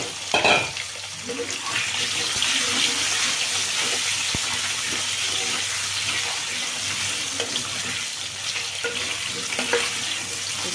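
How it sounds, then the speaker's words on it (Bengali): Cut potato pieces fry in a pan for a Bengali pea and paneer curry, a steady, fairly loud hiss and sizzle that runs throughout with faint clatter and no talk. "সুন্দর করে আলুটা ভেজে নিই"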